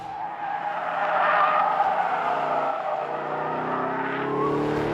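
Tyres squeal and skid loudly as a 2017 Holden Commodore SS Ute slides, the engine droning and rising in pitch underneath.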